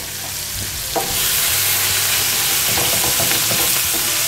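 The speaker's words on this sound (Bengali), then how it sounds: "একই তেলে ভেজে নিচ্ছি সামান্য একটু পেঁয়াজ" Sliced onion frying in the same hot oil just used for potatoes, a steady close sizzle with stirring scrapes and clinks from a spatula in the pan, no talking.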